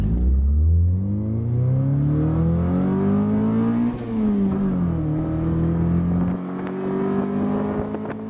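A 1995 Honda Civic ESi with VTEC accelerating hard through the gears, the engine note climbing steadily in pitch with a brief drop at a gear change, loud and close throughout.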